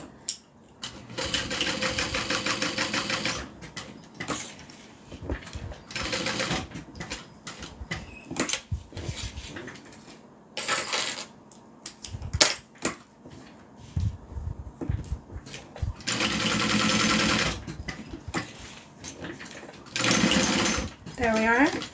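A sewing machine stitches a fabric rectangle on a bag, running in several bursts of fast, even mechanical chatter with short pauses between seams, loud and close.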